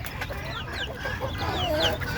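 Desi chickens on a small family farm, clucking repeatedly in short overlapping calls at moderate distance, with a faint outdoor background and no talk.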